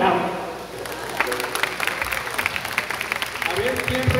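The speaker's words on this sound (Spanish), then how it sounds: "¡Un aplauso para el hombre del audio!" An audience at a convention in Cuernavaca claps for the sound technician, a steady patter of applause with voices talking over it.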